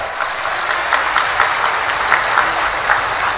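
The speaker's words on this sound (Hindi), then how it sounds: "एक बार तहे दिल से जोरदार तालियों से स्वागत होना चाहिए।" A crowd at an outdoor political party rally in India gives loud, dense applause to welcome guests, a continuous wash of many hands with rhythmic surges, close and sustained with no talk.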